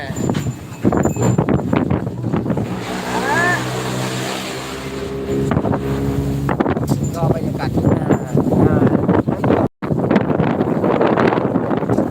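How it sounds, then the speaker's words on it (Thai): A loud engine exhaust roars and revs, rising and falling in pitch, with wind buffeting the microphone and people talking over it as a Thai Kathin procession sets off. "เสียงท่อนี่สุดๆเลยครับ"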